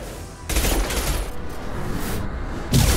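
Weapon fire in Mass Effect 2, sharp bursts of automatic shots starting suddenly, holding as a sustained rattle, then a short pause before another volley at the end.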